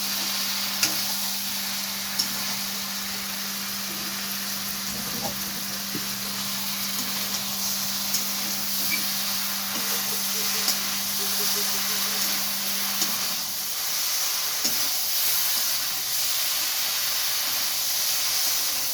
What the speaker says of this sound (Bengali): এবার আমি এবারে নাড়তে থাকবো।